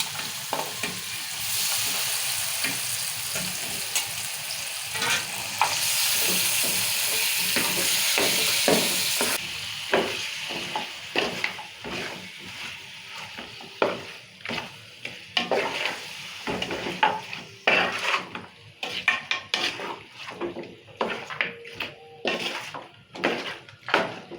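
Mutton pieces stirred and fried in oil with salt in a pan: a steady hiss of sizzling at first, then a long series of brisk scraping, clattering stirs close by, with no talk.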